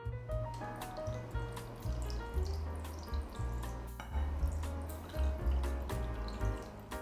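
Room-temperature water for softening gelatin sheets, running and trickling steadily in a home kitchen, with faint drips and small clinks over a low background hum, no voices.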